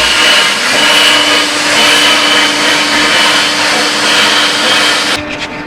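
A power tool cuts a hole in a steel hitch bumper for a chopper build, giving a loud, steady whine and grind close by for about five seconds before it stops abruptly.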